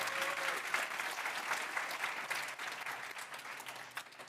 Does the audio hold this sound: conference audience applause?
yes